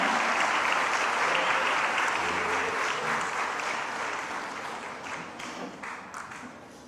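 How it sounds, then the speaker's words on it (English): Sustained audience applause fills a hall at a national conference on women's opportunities and challenges, loud and dense at first, then slowly thinning and fading toward the end with no voices over it. "Let's give her a huge round of applause."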